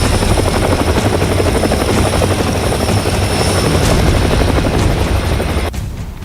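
An Indian Air Force indigenous Light Combat Helicopter flies close by, its rotor thudding loud and steady in a rapid beat that drops off abruptly near the end.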